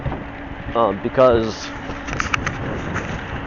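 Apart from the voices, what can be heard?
wind blowing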